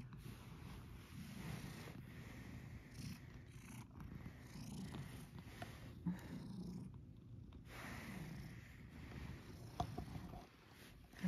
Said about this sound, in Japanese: 猫ちゃんね。